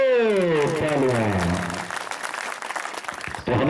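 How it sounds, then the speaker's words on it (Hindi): Audience applause at an Adivasi cultural gathering in a village, loud and dense at first, then thinning into scattered claps under a voice speaking and a singing-like tone, before a final louder burst near the end. "जोरदार बजा दो तालियां।"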